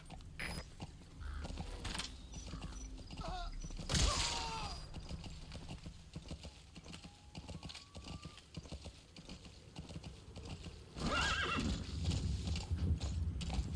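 Horse in the video game Metal Gear Solid V: The Phantom Pain, galloping with rapid clip-clop hoofbeats and neighing, with creaking gear and thuds mixed in and a louder burst of movement near the end.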